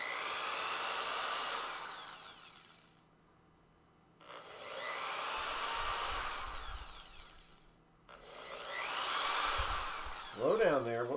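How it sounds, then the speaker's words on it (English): A power drill whirs in three long bursts of about three seconds each, separated by short pauses. The motor pitch climbs and falls within each burst, close and fairly loud. "be very careful with the drill"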